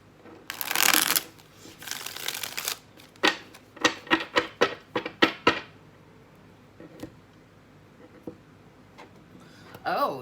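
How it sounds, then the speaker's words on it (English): Tarot cards being shuffled close up: a long riffle burst, then a run of crisp snapping taps as cards are squared and cut, followed by sparse soft card sounds, with a voice briefly heard. "One more shuffle."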